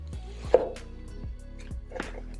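A vegan Italian meatball pizza being cut, with several sharp crunching chops of a blade through the crust coming at an uneven rhythm, close and clear.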